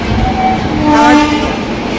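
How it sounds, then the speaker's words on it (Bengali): A train pulls into a small, empty station on the Vellore to Kolkata route, its rumble under a brief sounding horn near the middle, fairly loud and close, with no talking. "এই ট্রেনটা আসলো"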